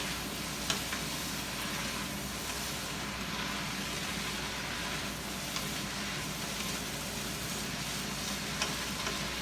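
Cooked spaghetti noodles are stirred around a hot frying pan for chicken lo mein, producing a continuous sizzling fry with scraping and tossing noises layered over a low steady rumble.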